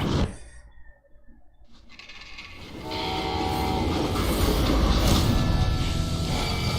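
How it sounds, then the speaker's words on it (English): A freight train in the video game Call of Juarez Gunslinger builds from a sharp opening blast into a steady, loud rolling rumble of wheels and cars, with a horn-like tone partway through and no talk. "They hopped the freight train having heard there was a big payroll in the express safe."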